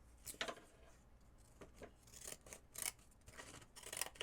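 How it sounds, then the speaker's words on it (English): Old Fiskars decal edge paper edgers snip through paper in a series of short, crisp cuts, several quick close-up snips spaced irregularly with small pauses between them. "I love these old Fiskars decal edge scissors are amazing."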